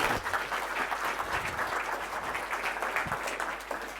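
A conference audience at a panel discussion applauds the panelists, a steady wash of clapping at moderate distance that holds evenly for a few seconds.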